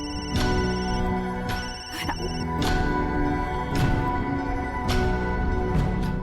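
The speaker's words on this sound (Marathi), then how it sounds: "उचल तो फोन." A telephone rings in repeated electronic bursts, fairly close and clear, with a faint voice in the background.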